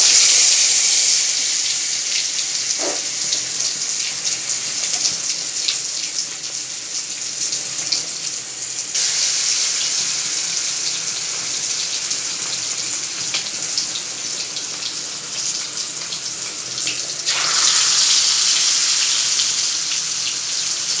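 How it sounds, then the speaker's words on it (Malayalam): Pieces of vangada (mackerel) fish frying in hot oil over a low flame give a steady, close sizzle with scattered crackles that swells louder near the end. "ഇനി നമുക്കിതിൽ ഓരോ കഷ്ണങ്ങളായിട്ട് മീൻ ചേർക്കാം"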